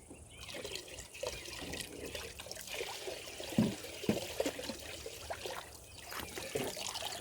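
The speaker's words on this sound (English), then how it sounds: "the water, when you pour it in the front, it just shoots out" Water is poured into a gold mining sluice box outdoors, a gentle trickling and splashing flow with occasional louder gurgles and spills, fairly close and moderately quiet.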